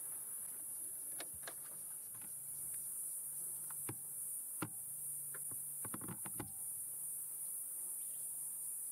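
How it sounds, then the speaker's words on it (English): Cicadas in the wild buzz as a constant, high, shrill chorus throughout, with scattered faint clicks and knocks nearby. "Listen to all these cicadas."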